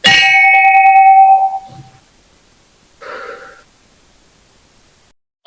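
An old temple bell at Sinhagad Fort near Pune is struck once with a loud, ringing metallic clang that decays over about two seconds, followed by a fainter second tap and a small knock at the end.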